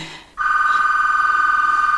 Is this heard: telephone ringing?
yes